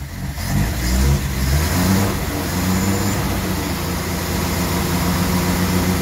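A 1964 Triumph P2500 barn find car engine runs loud and close, a steady mid-pitched rumble with a rev at the start and then settling into a rough idle.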